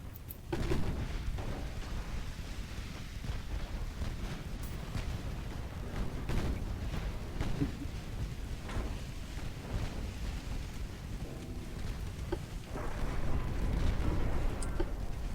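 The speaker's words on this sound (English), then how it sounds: "And our cruisers are shooting at a torpedo boat." Naval guns aboard cruisers fire at a torpedo boat in the warship game Ultimate Admiral: Dreadnoughts, a run of repeated muffled booms and low rumbling blasts at moderate volume, with no talk over them.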